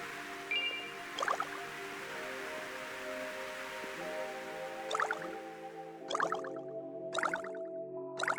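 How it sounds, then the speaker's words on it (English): Water drips in Lunacid, a video game: a handful of separate, crisp droplets fall at irregular intervals, some close together near the end, over a quiet sustained ambient tone. "The little water sound."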